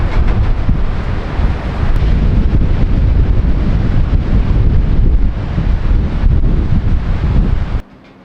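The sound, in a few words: strong gusting wind during a winter storm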